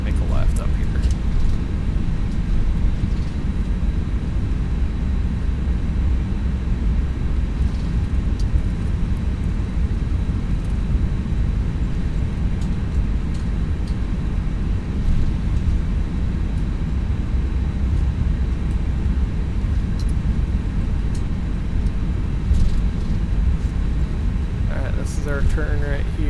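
Steady, loud roar of Airbus jet engines running as the airliner taxis in X-Plane 11, a constant broadband drone with a person talking over it.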